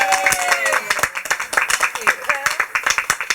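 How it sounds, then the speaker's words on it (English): A small live audience at an informal Independence Day talk-show gathering claps as the session wraps up, giving uneven bursts of individual claps under ongoing talking. "Give yourselves all a big round of applause."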